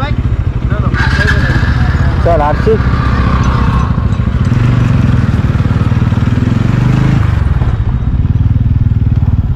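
A motorcycle engine drones steadily throughout, loud and close, with people talking over it while riding in Gujarat.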